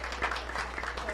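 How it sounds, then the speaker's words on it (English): Audience at a school board of education meeting giving a round of applause, steady mid-level clapping blended with a few voices, continuous across the moment. "let's give him a great round of applause this evening"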